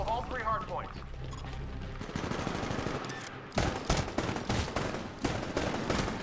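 Rapid SMG gunfire crackles in Titanfall, quiet at first and then ripping into several loud, tight bursts of quick shots in the second half, with background game noise throughout.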